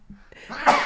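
A single close sneeze bursts out after a short inhaling buildup, loud and sharp at the end.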